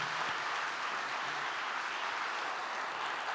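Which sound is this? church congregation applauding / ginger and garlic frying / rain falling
church congregation applauding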